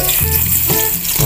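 Garlic hitting hot cooking oil in a pan, frying for a sweet and sour fish dish, gives a steady close sizzle with a couple of brief louder surges, and no voices over it.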